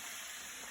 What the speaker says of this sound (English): Actually, I'll just add the onion right now because it takes a little bit too.